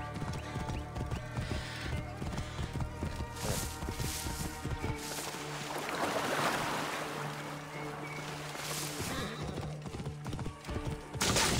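A horse gallops in the video game Assassin's Creed Origins, hoofbeats drumming close and steady, then fading beneath a wash of water-like ambience and surf-like noise.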